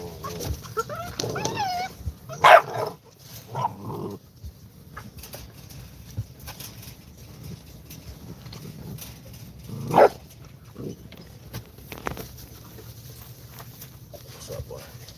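Dogs at a Presa Canario breeding kennel bark in scattered bursts, a few loud close barks and a whimper amid quieter stretches, with some rustling and movement in between.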